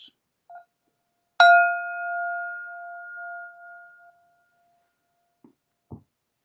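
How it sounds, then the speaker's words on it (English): A single meditation bell is struck once and rings out with a clear, sustained tone that slowly fades, followed by a couple of soft knocks. "here comes first bell"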